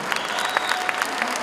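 Audience at a folk music concert breaks into steady, dense applause, many hands clapping together in a continuous wash with a few louder claps standing out.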